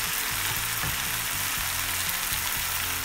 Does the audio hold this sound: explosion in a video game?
no